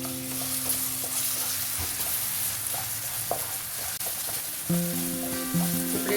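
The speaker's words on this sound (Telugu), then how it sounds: "ఇప్పుడు ఈ అల్లం మంచిగా ఇట్లా వేగనివ్వాలి" Ginger frying in a pan for carrot rice, a loud continuous close sizzle with occasional spoon scrapes, while a sustained tonal hum comes and goes in the background and nobody speaks.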